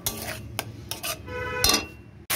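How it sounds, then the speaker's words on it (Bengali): Chili paste, tomato paste and spices being worked in a pan with a spoon, several separate scraping and knocking strokes close by with short pauses between them. "এগুলো সব মশলাগুলোকে ভালো করে দিয়ে কষিয়ে নেব"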